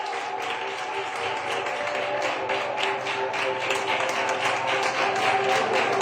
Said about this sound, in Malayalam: കൈയടിച്ചൊന്ന് ദൈവത്തിന് മഹത്വം കൊടുത്താട്ടെ.